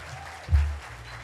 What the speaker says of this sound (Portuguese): Vamos aplaudir os pais.